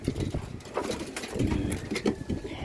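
Soft pigeon cooing repeats in low, throaty bursts on a house roof deck amid a busy, rustling background, with some scuffling and flutter-like noises mixed in.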